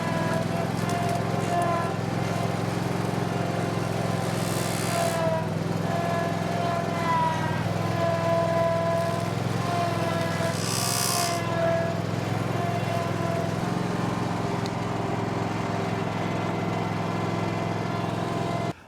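A Z Trimmer string trimmer mounted on a mower deck runs with the mower engine, giving a steady loud droning hum that holds throughout, with brief brighter bursts as it cuts.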